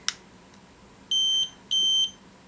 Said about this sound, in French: on a un bip et donc c'est à dire que là les batteries, enfin les cellules de la batterie se sont rééquilibrées